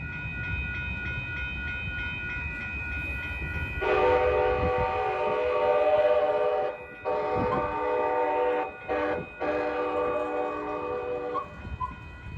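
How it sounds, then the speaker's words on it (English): An RTD light rail train sounds its horn at a railroad crossing: long, steady tonal blasts with brief breaks between them, fairly loud over quiet background rumble. "Now you may notice you hear that horn. Two longs, a short, and another long."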